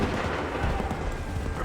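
Musket fire in an Assassin's Creed 3 battle rolls out as a dense, booming rumble of overlapping shots, sustained and fairly loud without a clear single blast.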